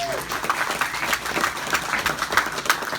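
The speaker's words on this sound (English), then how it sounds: "Let's give him a round of applause." A small crowd at the Rat Fink Museum claps for a guest introduced as Pirate Larry, a lively, uneven patter of hands close by, with a brief tonal sound near the start.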